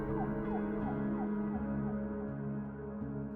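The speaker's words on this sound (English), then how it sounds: "Police sirens had made their way into the background at that point." Police sirens wail in steady, repeating sweeps. They sit at a moderate distance and sound fairly quiet, continuing alone with no voices.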